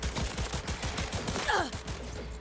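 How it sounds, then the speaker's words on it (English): Rapid automatic gunfire in Cyberpunk 2077 rattles in a quick series of close, sharp shots, followed by a short rising whine and fading tail. "Shoot out the legs."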